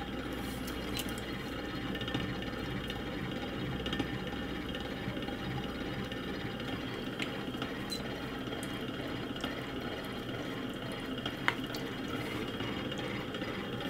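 A potter's wheel spins steadily while teapot spouts are thrown off a hump of clay, giving a low continuous hum with faint wet rubbing and slurry sounds, close and quiet, with no speech.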